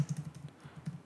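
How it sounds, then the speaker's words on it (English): Typing on a computer keyboard while entering an email address: a brief run of close, soft key clicks in an uneven rhythm, with no talking. "So let's type in the email."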